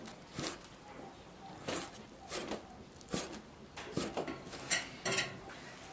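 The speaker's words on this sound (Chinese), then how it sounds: "咱给它切成肉丁" A knife dices pork on a cutting board, several sharp chopping knocks at uneven intervals, fairly faint and close, with background kitchen noise.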